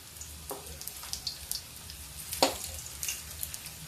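Bread and onion pakoras fry in hot oil on high heat, giving a low, steady sizzle dotted with sharp crackles and pops, with no talking.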